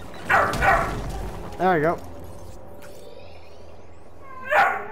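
Dogs in the Star Wars Jedi Fallen Order video game give a few separate yips and whimpering barks, spaced apart over a quiet background, with a voice talking briefly.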